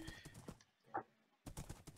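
A horse in a video game clip-clops in a short, quick burst of hoofbeats that stands alone in a brief quiet gap between louder game sounds.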